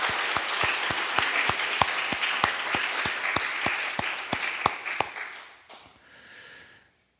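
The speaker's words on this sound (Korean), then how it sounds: "우리 박수로 하나님께 감사와 영광을 올려드리겠습니다." Church congregation clapping in unison during a Sunday worship service, a steady rhythmic beat of about twenty loud claps that stops abruptly, followed by a short fading murmur.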